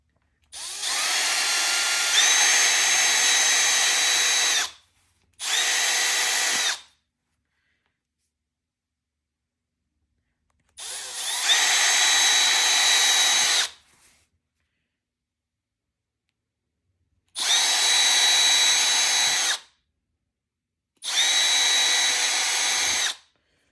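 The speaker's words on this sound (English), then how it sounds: "you just take an 1/8 inch drill bit" Power drill with a 1/8 inch bit boring pilot holes for a Cessna 182 center console, heard as five close whining bursts of a few seconds each separated by silent pauses.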